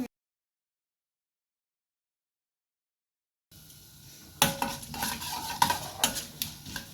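Mustard seeds, cumin and curry leaves fry in hot oil, silence giving way to a soft sizzle, then sharp pops and stirring scrapes in an irregular rhythm.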